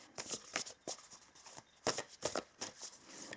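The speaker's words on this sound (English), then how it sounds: "Now let's pull some oracle cards." A deck of oracle cards shuffled by hand, close up, in quick papery riffling bursts separated by short pauses, with no talk.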